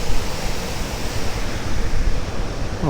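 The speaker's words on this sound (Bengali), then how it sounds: "কত উপর থেকে জলটা পড়ছে" A waterfall drops from a great height beside the Sach Pass mountain road, its water spilling across the route; a steady, loud, close broadband roar of rushing, splashing water fills the whole stretch with no voices.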